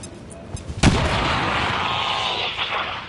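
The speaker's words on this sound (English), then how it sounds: "Grenade!" A single loud grenade blast in the XCOM 2 video game bursts out sharply, then trails into a long, rumbling, noisy decay that fills the rest of the moment.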